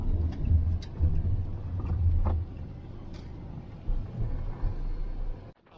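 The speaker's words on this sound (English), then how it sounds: "Pulled up in the car park, and it's a disc parking car park." A car rolls slowly into a disc-parking car park in Berwick-upon-Tweed, its engine a close, steady low rumble heard from inside, with occasional bumps before the engine cuts out at the end.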